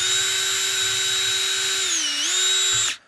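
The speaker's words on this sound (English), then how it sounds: "we can just go ahead and drill down through there" A power drill boring a small pilot hole for screws while building an adjustable airplane stand, a steady close whine holding one pitch, dipping briefly near the end, then stopping abruptly.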